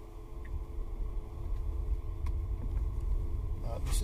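A Tesla running Full Self-Driving crosses loose beach sand at Starbase, Texas, giving a steady low rumble that builds slightly, with faint voices in the background.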